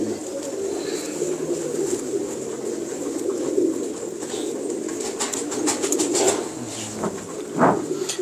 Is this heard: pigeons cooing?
yes